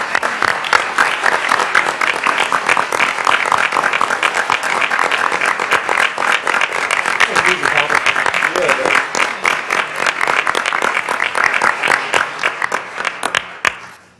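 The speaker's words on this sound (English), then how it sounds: "could we all give them our applause and for each of their contributions?" Loud, dense audience applause fills a city council meeting chamber, continuing steadily before trailing off abruptly at the end.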